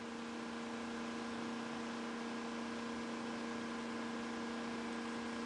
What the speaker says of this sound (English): 8-transistor Energizer motor.